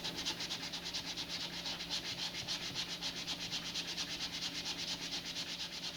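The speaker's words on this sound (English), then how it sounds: "I'm going to do this by hand with a little cut piece of sandpaper" Rapid rhythmic back-and-forth scratching of a small cut piece of sandpaper rubbed by hand on a model rocket, steady and continuous at close range.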